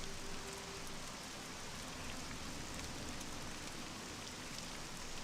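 Steady rain falls in The Elder Scrolls III: Morrowind, a dense even hiss of drops that runs unbroken and fairly loud from start to finish, with no talk over it.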